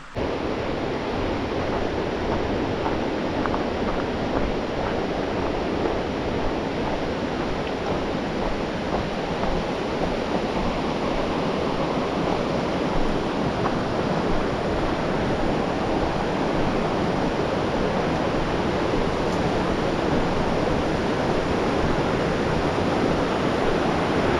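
The McCloud River rushes in a dense, unbroken roar of flowing water, steady and close throughout with no talking.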